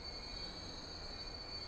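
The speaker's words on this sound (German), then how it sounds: "Diesmal haben die Züge Sound," Train wheels squeal in the Transport Fever rail-building game, a steady high-pitched metallic whine held over a constant rumbling bed of rolling noise, without any talking.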